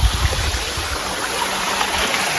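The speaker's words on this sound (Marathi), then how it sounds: "नुसता झरझर पाणी सरसर पाणी झरझर पाणी सरसर पाणी" Water rushes steadily along a stream in the Konkan region of India, a continuous close hiss and gurgle with no voices.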